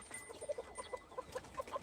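A free-range village hen settled in a box to lay an egg gives a quick run of soft, rhythmic clucks, close by and fairly quiet, with no talking.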